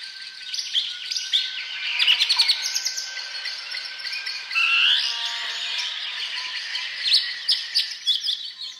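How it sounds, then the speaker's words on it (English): Robin and house sparrows singing in a garden, a dense overlapping chorus of bright chirps, trills and sharp calls that runs continuously, fairly close and lively with no voices. "Just listen to that robin telling all the other robins what belongs to him"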